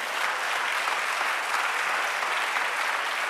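Congregation applauding during a Spanish-language church sermon, a dense, steady wash of many hands clapping at full strength throughout, with no voices over it.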